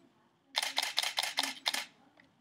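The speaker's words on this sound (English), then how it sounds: "So watch what happens when I hold my shutter button." A Canon T4i DSLR fires a rapid burst of six crisp mechanical shutter clicks in quick, even succession, close and clear, then stops abruptly with no talking.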